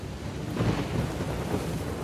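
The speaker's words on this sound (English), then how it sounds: "And it's raining." Steady rain with a low thunder rumble swelling around the middle, heard inside the Uncharted 4: A Thief's End video game, a continuous close wash of noise with no talk over it.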